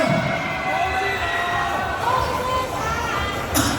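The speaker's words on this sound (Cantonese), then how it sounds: "我俾掌聲" Audience applause and cheering during a televised game show segment with a bride, a dense steady crowd roar with voices mixed in throughout, fairly loud and close.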